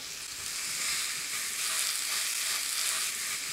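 Burgers fry in a hot pan with a loud, steady hiss and crackle of spattering fat, close by and continuous without talk.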